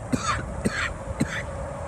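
A person coughs or clears their throat three times in quick succession, each short rasping burst close and fairly distinct over a quiet background.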